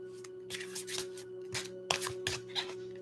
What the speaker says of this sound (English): Just going to shuffle these cards